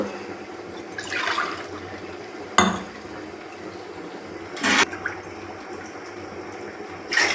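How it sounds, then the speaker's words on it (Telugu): Water poured from glasses into a cooking pot of measured rice for mutton bagara, a few distinct splashing pours separated by quiet gaps, close and moderately loud with no talking. "మూడింటికి నాలుగు గ్లాసులు పోసాను వాటరు"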